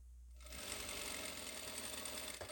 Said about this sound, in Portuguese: passando uma costura